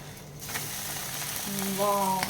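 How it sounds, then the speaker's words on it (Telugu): An egg dosa fries in a light film of oil on a hot pan, giving a steady, close sizzle that grows slightly louder toward the end, with no speech over it. "లైట్గా ఆయిల్ వేసుకుందాం, బాగా కాలనిద్దాం"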